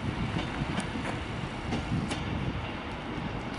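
A Class 390 electric train, unit 390-001 bound for London Euston, rolls steadily through Manchester Piccadilly station. The wheels give a faint rhythmic clatter over a broad, even rumble, heard from a moderate distance with no one talking.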